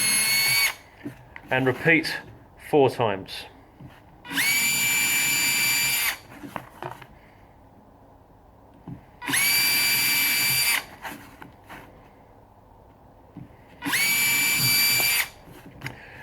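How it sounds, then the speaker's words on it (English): A handheld power drill bores straight through a drilling board in three separate whining bursts of a second or two each, close and loud, with someone talking in the gaps between them. "drill straight through"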